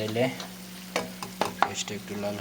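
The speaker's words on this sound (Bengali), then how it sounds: "ওইখানে পেঁয়াজ ভাজি করে নিলাম" Onions frying in a pan for a noodle and mushroom dish, a steady close sizzle with scraping stirring strokes and a few sharper utensil knocks near the middle, no voices.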